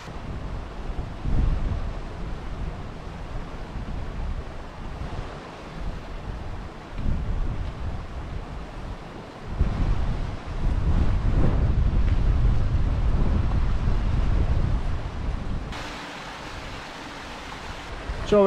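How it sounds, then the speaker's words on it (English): Wind gusts across the hills of the Peak District, buffeting the microphone with a low, rumbling roar that swells and eases over the stretch. "see whether this wind's any worse than what it is down here"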